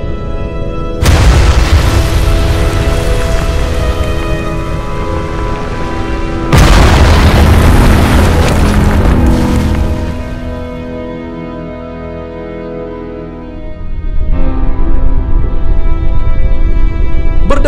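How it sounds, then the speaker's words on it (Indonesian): Big Bang explosion sound effect: a loud deep boom, then a second massive blast, a quieter rumbling tail and a third boom, each decaying slowly with no talk. "Terjadilah sebuah peristiwa dentuman besar atau Big Bang yang sangat-sangat luar"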